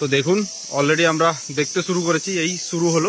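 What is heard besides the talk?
crickets chirping in the hills of Meghalaya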